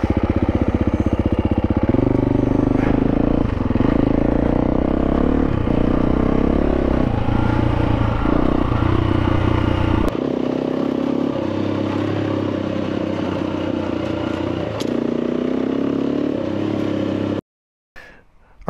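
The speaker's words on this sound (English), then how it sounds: "I'm really enjoying riding this bike on this fire road" A 2022 KTM 350 EXC-F dual sport motorcycle rides a dirt fire road, its loud close engine rising and falling through repeated throttle blips and gear changes, with gravel clatter beneath, before cutting off abruptly at the end.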